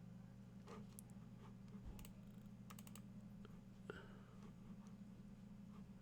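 Typing on a computer keyboard during a live coding session, with scattered quiet key clicks and short bursts of taps over a steady low hum.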